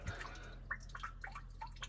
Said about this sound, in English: it's dripping coolant out